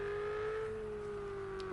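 A Ferrari GT3 race car engine in a racing video game at the Ruapuna Park GP circuit holds a steady, sustained droning note at a fairly constant pitch, heard alone throughout.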